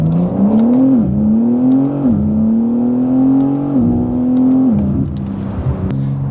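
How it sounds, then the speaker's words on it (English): A BMW G82 M4 Competition xDrive accelerates hard, its engine note climbing steadily through several gear changes with brief dips between them, loud and close throughout. "But I did take a very quick acceleration there."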